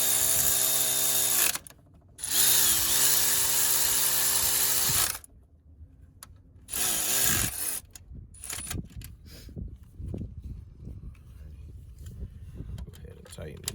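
Power tool work while tightening bolts on the lower thermostat housing of a 2012 Dodge Grand Caravan, heard as loud bursts of a whirring driver with pitch sweeps that give way to softer clanks and handling noise.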